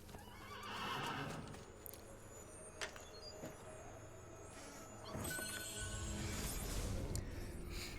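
A horse in the Assassin's Creed 2 game whinnies and stamps its hooves amid faint game ambience, with brief clip-clop and a soft snort, moderately quiet with no speech.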